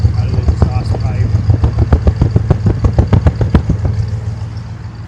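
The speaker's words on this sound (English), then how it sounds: "Get you a close-up sound out of the exhaust pipe." An Oldsmobile 442 convertible with a Powerglide automatic idles close up at the exhaust, a lumpy, uneven rhythmic chugging that fades slightly at the end.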